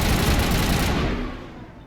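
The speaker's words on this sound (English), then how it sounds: "I'm going to go ahead and switch back to my assault rifle here since it's more" Assault rifle in Mass Effect Legendary Edition firing a dense, loud automatic burst that stops after about a second, then quickly fades out.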